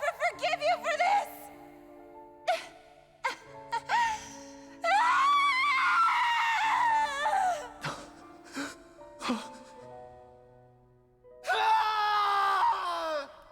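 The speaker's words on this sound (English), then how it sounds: "that's so much screaming" Repeated anguished screams and groans from video game characters in Tales of Arise, coming in loud, drawn-out bursts separated by short pauses, with some voiced dialogue mixed in.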